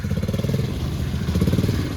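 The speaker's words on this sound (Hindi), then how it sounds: "ये देखो भाई मोटर बाइक फंस गई यहाँ पे," A motorcycle stuck in snow at Gulmarg revs steadily, its engine putting out a loud, close, throbbing pulse with no pauses across the whole short stretch.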